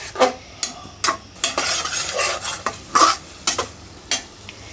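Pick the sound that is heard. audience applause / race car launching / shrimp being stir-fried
shrimp being stir-fried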